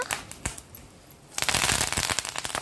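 Mustard and cumin seeds pop and crackle in hot oil, sparse snaps at first, then a dense burst of rapid spattering.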